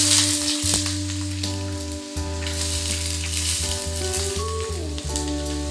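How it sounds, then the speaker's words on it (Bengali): Peanuts frying in a pan for biryani, with a steady close sizzle and crackle running throughout, plus a few sharp knocks and a low steady hum underneath. "এবার আগে এই বাদামটা ভেজে নিই"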